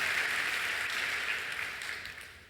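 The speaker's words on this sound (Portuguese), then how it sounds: "Pode aplaudir sem medo" A church congregation applauds together, a dense, steady wash of clapping that slowly fades over a couple of seconds, heard alone without speech.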